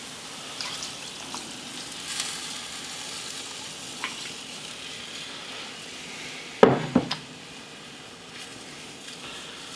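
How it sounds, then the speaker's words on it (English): A spatula scrapes caramelized onion bits off the bottom of a pot of onion soup with brown vegetable broth, a steady low sizzle running throughout and a short burst of louder scraping clatter near the end. "the reason why we're using the this spatula is so that I can really scrape the bottom and get all the bits of onion and bits of caramelized onion off the bottom"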